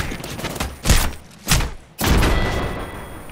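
Gunfire in the Apex Legends video game, three loud bursts about half a second apart over a steady background of game noise, the last burst leading into sustained shooting.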